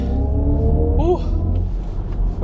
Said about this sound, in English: That electric powertrain with the instant power is very